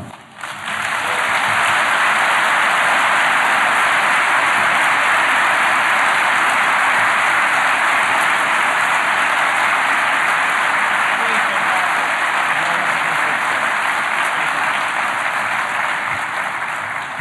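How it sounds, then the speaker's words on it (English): Sustained audience applause fills a conference hall after a cybersecurity keynote at Black Hat USA 2014, a dense, even roar of many hands clapping steadily from start to finish with no break. "Let's give Dan another round of applause."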